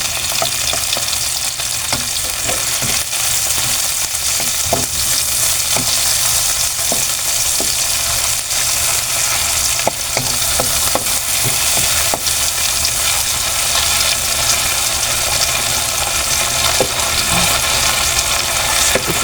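Tomatoes sautéing in hot oil for cabbage with sardines, a loud, steady close-up sizzle and crackle with scattered sharp pops and spatula scrapes throughout.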